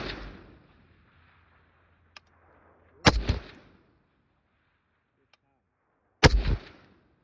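An M1A rifle firing handloaded rounds at an outdoor range, heard as two sharp, loud shots about three seconds apart, each with a short ringing tail, separated by quiet stretches.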